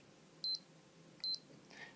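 Two short, identical electronic beeps from a CSX C536X heart rate monitor as its set button is pressed to start the stopwatch training timer, evenly spaced and clear over a quiet background.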